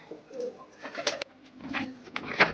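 Pigeons, including Madrasi pigeons, coo softly in short rounded bursts nearby, with light rustling and movement between calls and no speech.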